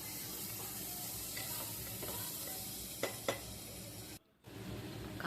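Onions, ginger-garlic paste and tomatoes fry in a pan for paneer pulao, making a continuous soft sizzle with a couple of light spoon clicks before a brief silent gap.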